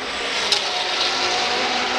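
Sports car race traffic, GT and prototype cars including a Ferrari and Cadillacs, roars past in a steady, loud, wash of engine noise heard from trackside, with no voices.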